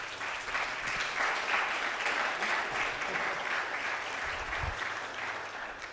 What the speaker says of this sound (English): So if we can have a round of applause for them,